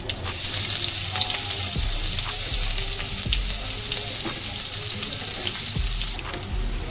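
Chopped medium onions and a bay leaf fry in hot mustard oil in a kadai, a steady broadband sizzle running throughout with faint low knocks, no voices.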